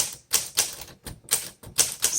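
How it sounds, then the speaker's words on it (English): A 1936 Corona Sterling flat-top typewriter is struck in a run of sharp, close keystrokes with short pauses between them, clacking loudly on its own. "let's do some typing"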